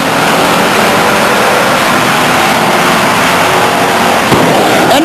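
Race cars run four wide through turn four at Stockton 99 Speedway in a 1999 race, a loud, constant engine roar that swells as the pack approaches, heard up close without any speech.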